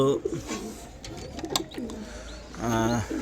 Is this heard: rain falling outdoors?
no